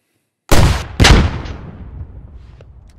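Two heavy tank gun shots from a Challenger 2 in the game Squad, a close booming blast followed half a second later by a second, each with a long rumbling decay and no talking.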